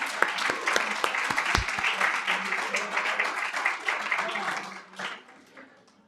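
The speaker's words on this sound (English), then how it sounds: "Let's give them another round of applause." An audience at a college education-for-service awards ceremony breaks into sustained applause, a dense crowd of clapping hands that holds steady and then fades away toward the end.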